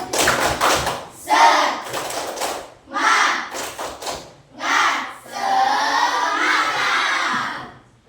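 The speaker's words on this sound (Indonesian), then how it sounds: "Tepuk semangat." Schoolchildren in an Indonesian classroom perform a tepuk semangat spirit clap, loud bursts of rhythmic clapping and shouted chanting in several groups of beats, ending in a sustained collective shout.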